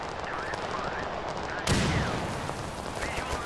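Soldiers' gunfire in the war video game Total Conflict: Resistance, a steady crackle of shots with a louder burst about halfway through.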